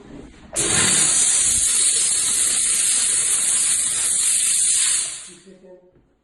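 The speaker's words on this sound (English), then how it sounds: "we do the final touch with the steam cleaner" A steam cleaner blasts a loud, continuous high-pitched hiss of steam onto a freshly rhodium-plated ring for about four seconds, then cuts off and tapers away, leaving a few faint clicks.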